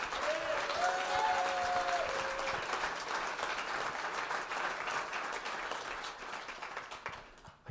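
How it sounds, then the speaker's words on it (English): Sustained audience applause fills a drum recital hall, steady dense clapping from start to finish with a brief tonal sound early on, fading slightly at the end. "Let's give a round of applause for them."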